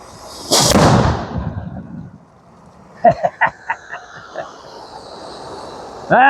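A loud whooshing blast of a homemade cannon firing a roughly five-ounce projectile near the microphone, followed by a series of fading thuds and clatters, then a brief bright clang.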